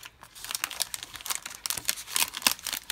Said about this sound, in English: Let me cut this cover off.